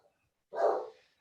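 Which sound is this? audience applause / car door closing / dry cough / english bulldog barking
english bulldog barking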